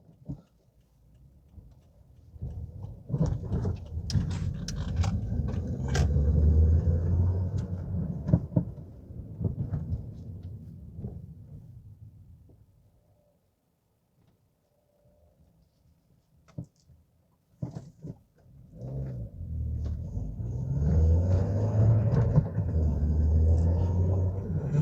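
A 2003–2013 Toyota Corolla 1.8 with a short throw shifter driving on the road, a low rumbling engine and road drone that swells, fades to near silence in the middle, then builds again with ticking clicks.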